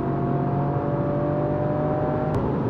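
A 2022 Toyota GR Yaris accelerating hard around a racing circuit, heard from inside as a loud, steady engine drone with a sustained tonal whine and no speech.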